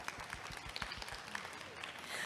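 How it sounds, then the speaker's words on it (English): Audience applause at a women's business event, a quick spread of claps from a crowd in a hall, fairly quiet and steady throughout. "Give a round of applause here."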